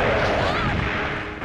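Explosions from a mine thrower in Resident Evil 3: Nemesis, a loud, continuous roaring blast filling the whole moment, booming up close.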